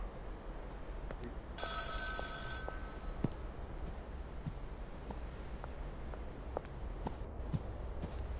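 A telephone ringing in the video game Schedule 1: one short, bright electronic ring burst rises briefly above a low steady hiss, then fades, faint and alone.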